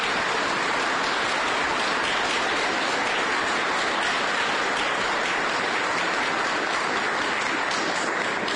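A crowd at a press conference for a jobs skills training center in Westerly gives a sustained round of applause, dense and even, rushing like rain throughout with no voices over it.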